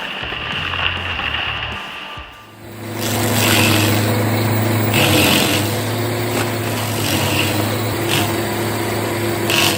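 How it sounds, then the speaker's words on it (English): A 2022 Carlton SP 6016 stump grinder with a 54 horsepower Kubota engine and Green Teeth 900 series teeth runs loud and steady, its engine drone rising after a brief quieter moment, with no voices. "The 2022 Carlton SP 6016 with a 54 horsepower Kubota engine and Green Teeth 900 series teeth demonstrated incredible power when tackling tree stumps"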